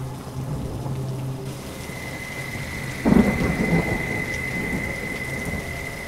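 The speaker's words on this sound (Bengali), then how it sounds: "বাইরে বৃষ্টি যেন আরো বাড়ছে, আর তার সাথে বাড়ছে হাওয়াও।" Heavy rain pours down in a windy storm, a dense steady hiss with a low rumble surging midway, heard alone without voices.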